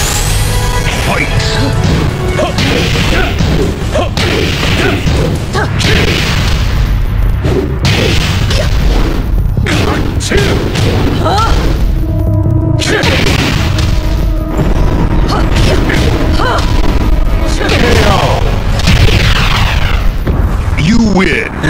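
Tekken 6 fight sounds play continuously and loud: dense punches, kicks, impacts and crashes with music underneath, and an announcer voice heard at times.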